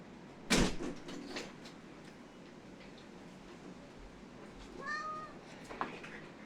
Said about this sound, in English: Now let me open the door for my cat